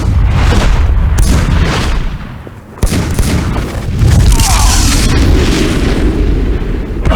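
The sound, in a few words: weapons firing and explosions in video game Superman Shadow of Apokolips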